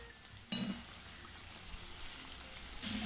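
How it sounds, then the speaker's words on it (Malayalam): Bone-in dynamite chicken frying in hot oil, a quiet continuous crackling sizzle with two sharper bursts at the start and end, close and alone without speech. "ഞാൻ 2-3 ബാച്ചായിട്ടാണ് ഇത് ഫ്രൈ ചെയ്യാൻ പോകുന്നത് കേട്ടോ"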